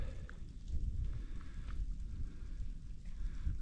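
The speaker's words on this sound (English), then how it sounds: "the rain is picking up." Rain falls on a cold day on Blood Mountain along the Appalachian Trail, a soft, steady hiss mixed with low gusty rumble and no one speaking.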